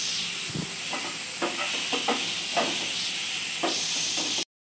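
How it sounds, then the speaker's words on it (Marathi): Wild greens sautéing in a pan, a soft steady sizzle with intermittent scraping and stirring of a spatula against the pan, moderately close and with no talking. "त्याच्यानंतर तोही सुंदर असा परतून घ्यायचा आहे, एकजीव करायचा आहे।"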